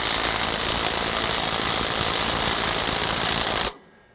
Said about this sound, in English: we're gonna tighten it up, give it some time to hammer because that's what it's gonna need